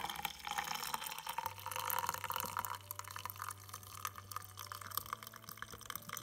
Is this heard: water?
yes